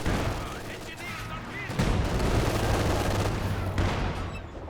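An artillery barrage in the video game Company of Heroes 2 thumps and crackles as a dense run of gunfire and explosions at moderate loudness, with a commentator's voice sometimes over it.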